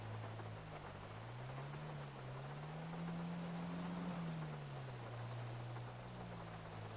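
Steady rain hisses in the FiveM roleplay game around Sandy Shores, a constant even wash with a low engine drone rising and falling beneath it, and no talking.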